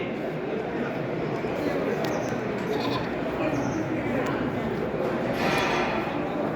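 Goats bleating amid a busy crowd at the Boseong goat auction, with dense chatter and livestock noise throughout and occasional higher calls standing out over the steady murmur.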